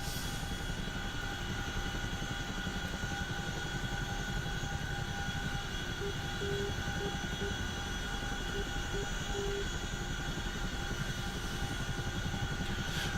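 Helicopter in the DCS flight simulator droning steadily throughout, a dense continuous rotor and engine roar with a faint steady whine above it, close and unbroken, with no talking.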